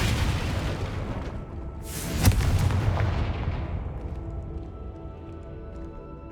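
A Confringo blasting spell explodes in the Hogwarts Legacy video game, giving a sharp, loud boom with a bright crack that then rumbles and fades over several seconds, with no voices.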